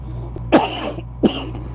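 Two sharp, close coughs about a second apart, with a low steady hum underneath.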